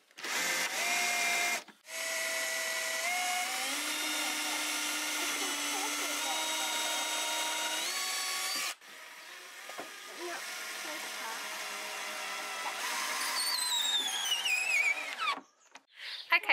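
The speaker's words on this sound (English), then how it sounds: "we're just going to add four screws in each corner just to make sure it stays in place" A power drill whirs in long bursts as screws are driven into the corners of a lathe table, several sustained runs with short pauses between them and a pitch that rises under load.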